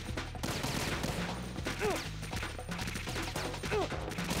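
Video game gunfire rattles quietly in the background as a steady run of faint shots under game music and effects, with no talk in the moment.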